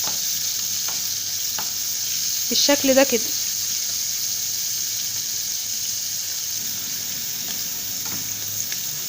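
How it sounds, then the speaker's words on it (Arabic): Alexandrian-style liver fries in hot oil in a pan, giving a steady, close hiss of sizzling that runs the whole time, with a short burst of speech over it early on. "ننزل على الزيت بالكبدة بتاعتي. اول ما تسمعوا الصوت ده يبقى كده تمام قوي"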